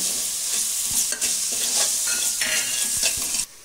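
Cooked dal and rice for dal khichdi being stirred and sautéed in a pan, a steady sizzling hiss with scraping strokes of the spoon through the thick mixture, close and continuous.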